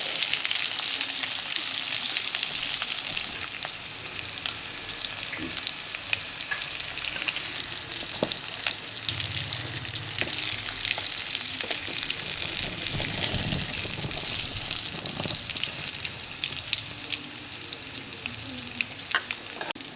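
Kongu-style chicken legs fry with pepper in a pan, making a loud, continuous close-up sizzle with occasional crackles and scraping as the pieces are turned.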